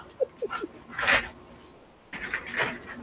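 A dog whimpers in short, high rising cries, then gives a few sharp barks and yips close by, eager over a ball, with brief pauses between bursts.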